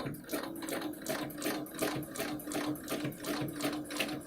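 A sewing machine runs steadily while stitching a quilt along a ruler template, its needle clattering in a fast, even rhythm that stays close and continuous throughout.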